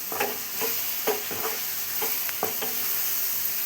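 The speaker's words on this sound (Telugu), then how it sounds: "ఇందులోకి అయితే మనం పట్టి పెట్టుకున్న పప్పులు, కొబ్బరి, ఉప్పు అన్నమాట వేసేసి కలుపుకుంటే" Amaranth leaf fry with lentils, coconut and salt is stirred in a sizzling pan, a string of brisk scraping strokes over a continuous soft frying hiss.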